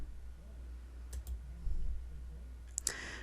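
A few sharp computer mouse clicks snap out in quiet, one near the middle and a tight pair near the end, close and crisp against a faint low hum while someone works through event templates in booking software.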